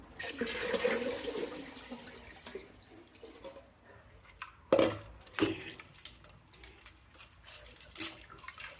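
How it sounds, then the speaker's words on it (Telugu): Ice water splashes and pours in uneven bursts with a few clinks, fairly quiet and intermittent, with sparse background noise between the pours. "Ice water కలుపుతున్నా."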